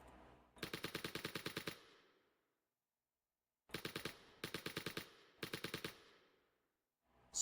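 Rapid automatic gunfire from a custom weapon in a Rosebud AI browser game, fired in four separate bursts with short silent gaps, each burst a crisp, even rattle of close shots.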